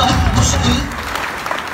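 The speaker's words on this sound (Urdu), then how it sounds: "نہیں، تالیاں نہیں چاہیے مجھے" An audience at a motivational speech in a hall breaks into applause: a dense wash of many hands clapping at once, loud at first and easing off toward the end.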